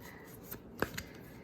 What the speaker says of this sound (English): I do love how this deck shuffles